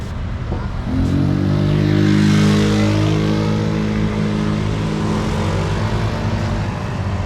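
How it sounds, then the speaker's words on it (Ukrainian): Fast motorcycles passing on a street near Patong beach, a loud engine whine that rises and falls as a machine sweeps by, followed by continuous traffic rumble. "Самі небезпечні тут швидкі мотоцикли."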